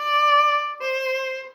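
Violin up-bow notes where the bow slows gradually to a stop, giving two sustained, rounder-sounding tones that fade gently rather than cutting off, played solo.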